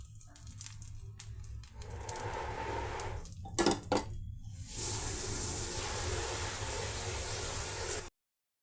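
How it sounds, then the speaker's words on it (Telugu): Rava dosa batter meets a hot tawa with a bright, steady sizzle that swells and holds after a few clinks of a utensil on the pan, close and fairly quiet. "మిశ్రమాన్ని ఈ తవా మీద యాడ్ చేద్దామండి."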